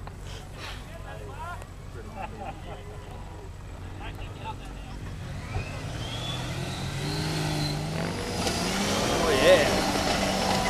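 Turbo diesel 4x4 Morgan Triton revving while stuck off-road, a rising engine drone that builds louder toward the end, with people talking over it throughout.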